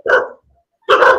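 Stray dogs outdoors in the sun give two loud, close barks separated by a brief pause.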